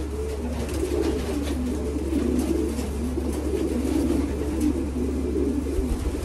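Young racing pigeons coo softly in a loft, a steady low murmuring of overlapping bird calls that runs throughout at moderate level, with no one talking.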